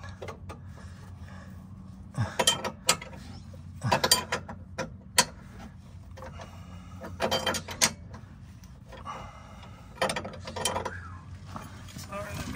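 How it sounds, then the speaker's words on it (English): A long wrench is worked back and forth on a front body mount bolt of a 2004 Range Rover HSE L322, giving irregular clusters of metallic ratcheting clicks between quieter pauses, close and distinct over a faint low hum. "pull this wrench and go back and forth"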